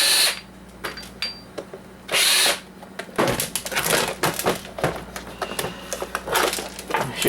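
Power tool whirring in short bursts as it backs a screw out of an Oster coffee maker being taken apart for scrap, with clicks and handling clatter between the runs.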